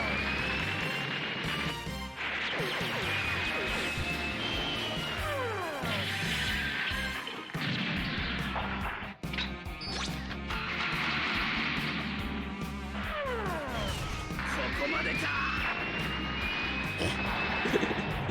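Battle animation explosion in the video game Super Robot Wars T, a sustained loud roaring blast layered with whooshing, jet-like engine noise and crashing impacts throughout, with several surges and no talking.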